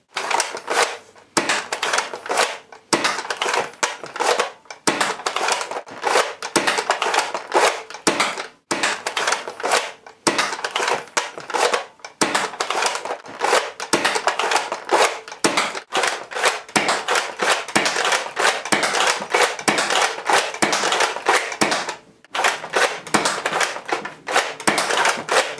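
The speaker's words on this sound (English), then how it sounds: "now let's go to a quick firing demo so you can see how it shoots" Nerf Halo sniper rifle replica, a modified long-range foam blaster, firing a long run of sharp mechanical snaps and clacks close to the mic, with only brief pauses between shots and cocking strokes.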